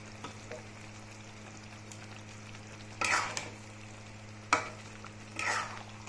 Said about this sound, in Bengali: এখন ফ্রাই করা চিকেন এই মশলার মধ্যে দিয়ে দেব চিকেনগুলো মশলার সাথে ভালোভাবে কষিয়ে নেব